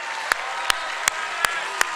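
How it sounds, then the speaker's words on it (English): A crowd applauds at a Gearbox panel at PAX East 2022, a dense wash of clapping punctuated by sharp, evenly spaced claps. "can we give him one more round of applause for happy birthday?"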